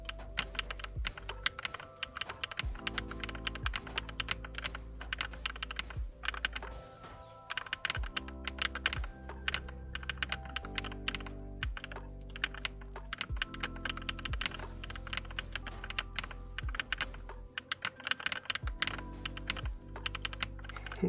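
Rapid, dense keystrokes clatter continuously on a new computer keyboard during a TETR.IO game, close and steady, with tonal game music playing underneath throughout.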